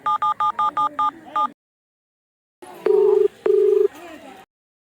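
A telephone being dialed, a quick series of close keypad tones, then after a pause a ringing signal in two long bursts with clicks.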